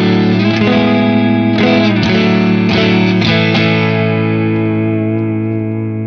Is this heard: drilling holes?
no